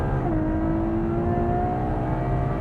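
2018 Ferrari GTC4Lusso accelerating hard under launch control, heard from inside the cabin as a dense, steady engine roar with a layered tone that climbs in pitch early and then holds strong.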